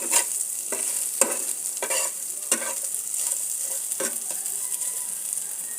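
Mola fish heads fry in hot oil with a steady bright sizzle, while sharp scrapes and clacks of a spatula come every second or so as the pieces are flipped and lifted. No one speaks.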